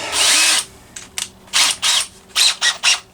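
A power drill with a small bit bores into metal during maintenance on a McCulloch Mini Mac 30 chainsaw, heard as several close, loud whirring bursts, one long then a series of short stop-start pulses.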